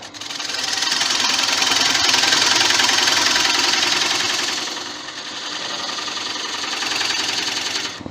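A wood lathe spins a 17-inch spalted sycamore bowl while a parting tool cuts in to form a tenon, a loud continuous rough grinding roar that eases briefly midway and then builds again. No voices are heard.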